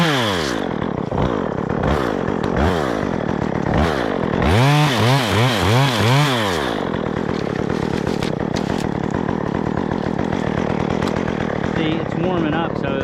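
A Stihl chainsaw engine warming up revs hard in rising and falling bursts, then settles into a rough, steady running drone toward idle, loud and close throughout.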